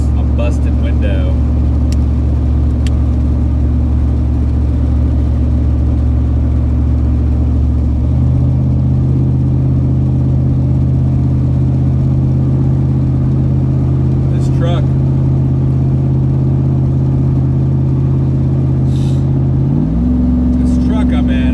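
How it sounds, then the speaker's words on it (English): A slightly battered 2003 Chevrolet Silverado 1500 4x4 extended-cab pickup drives along, its engine droning loud and steady with a pitch shift as it changes speed and a few faint clicks. "This truck I'm in is a 2003 Silverado, a little busted, 1500 4x4 extended cab."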